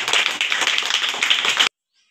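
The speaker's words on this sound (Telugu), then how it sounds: "వాళ్ళు గట్టిగా క్లాప్స్ కొట్టండి." A group of children at Sunday school clap loudly and rapidly together for under two seconds, a dense burst of close applause that stops abruptly into silence.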